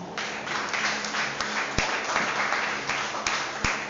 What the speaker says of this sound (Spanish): Quiero que por favor le dé un aplauso a Dios.